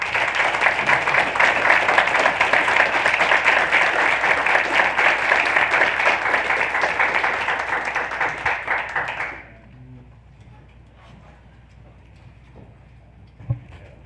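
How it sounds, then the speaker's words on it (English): A school board meeting audience gives a sustained round of applause for local schools, strong and even for about nine seconds before cutting off into quiet room tone with a single knock near the end. "So please join me in giving them and all of our schools a round of applause."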